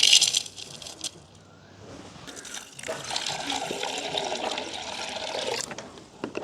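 Water splashes and swishes as small pieces of dried fish are rinsed and washed by hand, a clinking splash at the start followed by a steady, moderately loud sloshing that fades near the end.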